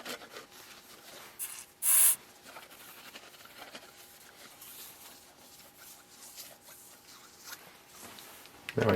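A rag wiping oil off the head surface of a John Deere 1010 engine block during a rebuild, soft intermittent rubbing strokes, with a short loud hissing burst near the start and faint background noise.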